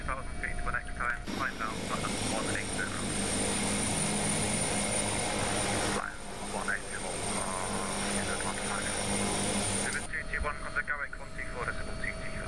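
Steady loud whine and thrum of an AW-139 helicopter's rotor and engines in the X-Plane 11 flight simulator, continuous throughout with a brief shift in tone midway and sounds of talking over it.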